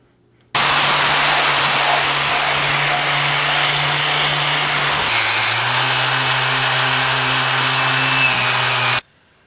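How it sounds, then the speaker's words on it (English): A handheld power tool strips rust and paint from a steel bar before welding a receiver hitch. Its loud, steady whine starts abruptly, drops slightly in pitch midway as the load changes, then cuts off. "I want to clean off this metal, get all this rust off of this piece, and get the paint"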